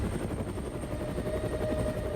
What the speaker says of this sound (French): Grâce à ces hélicoptères UH-1 UA, la première division de cavalerie est capable d'héliporter les soldats directement sur le théâtre des hostilités.